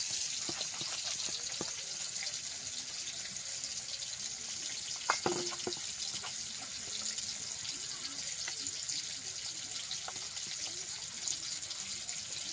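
Water poured onto prawns coated in turmeric and ground spices makes a soft, continuous trickling stream, fairly faint and steady throughout with a few small splashy ticks.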